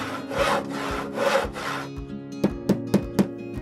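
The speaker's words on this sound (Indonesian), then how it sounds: "potong bagian tengah bambu menggunakan gergaji kecil" A small hand saw cuts through the middle of a bamboo stalk in two long, rasping strokes, then a short pause and four quick, sharp knocks. Close and clear, with no talk.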